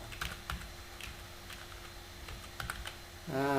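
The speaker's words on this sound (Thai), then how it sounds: "พิมพ์เป็นภาษาลาว" Computer keyboard keys are typed in short clusters of close, crisp clicks while entering Lao text, with a faint steady hum behind them and a brief louder buzzing tone at the very end.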